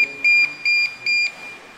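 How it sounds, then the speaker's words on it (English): A Nemtek Merlin electric fence energizer keypad gives a few short, clear, high electronic beeps in an even rhythm, loud and close, with quiet between them. "after you put in the 23989#, it will give you 5 beeps, which shows that the machine has been reset"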